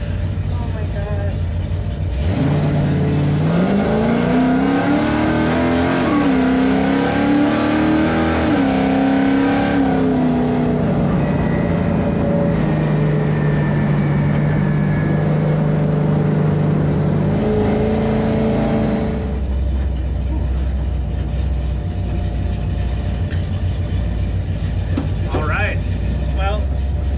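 A 1968 Plymouth Satellite launches hard, its engine roaring loud and close as the revs climb and shift. It holds a steady drone, then drops back to a low idle rumble.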